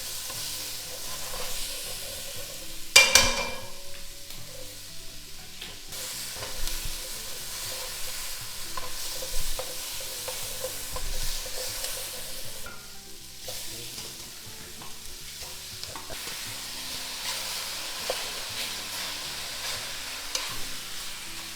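Cut-up chili peppers frying in a hot pan for Korean braised pork ribs, with a steady close sizzle, a loud clatter near the start and repeated scraping stirs throughout, no talking.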